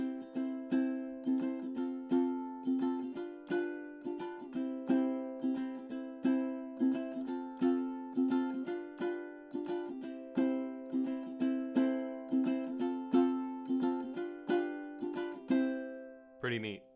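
Ukulele strumming the quick indie strum pattern through a chord progression, with steady rhythmic downstrokes and bright chords ringing throughout, ending with a brief scraping noise.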